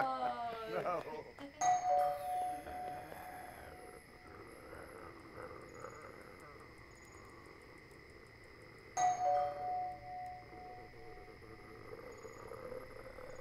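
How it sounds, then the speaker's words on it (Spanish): A doorbell rings twice, a few seconds apart, in a home during a children's birthday party, each chime clear over a steady background hum. "el timbre."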